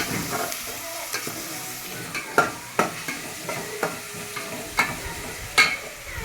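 Prawns fry in a pan, a low steady sizzle punctuated by repeated sharp scrapes and knocks of a spoon stirring them, close and fairly loud, with no talking.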